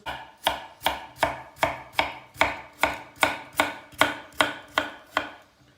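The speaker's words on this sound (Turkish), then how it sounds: "Çok fazla ufak doğramayalım" Steady knife chops on a cutting board, about thirteen evenly spaced strikes cutting potatoes, close and crisp, no talking.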